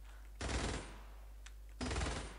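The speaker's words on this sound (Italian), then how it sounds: "gli dà una bella sventagliata di colpi" Two short machine gun bursts in the turn-based game Steam Marines, each a dense rattle of about half a second separated by a gap of a little over a second, with faint game ambience between them.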